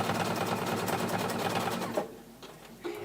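A sewing machine runs a fast, steady stitching burst up close, then slows to a few short stops and restarts.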